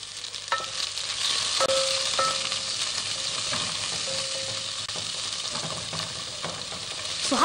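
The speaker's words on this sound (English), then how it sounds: "Put in your onions. Yeah. Again, that sizzling sound." Onions sizzle steadily as they fry in a hot pan for a wet-fry liver and stir-fried vegetable dish, a constant close crackle with occasional stirring clinks and scrapes, no talking.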